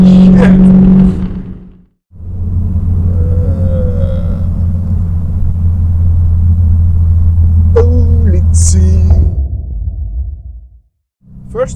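A Toyota MR2 engine revs and keeps revving, droning loudly and steadily from close by with a deep low rumble, with brief gaps at the start and end and voices talking over it.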